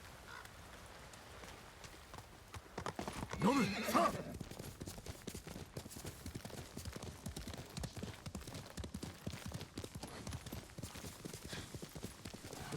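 Steady clip-clop of horse hooves in the Ghost of Tsushima video game, rhythmic and close throughout, with a horse whinnying briefly near the start while someone talks over it.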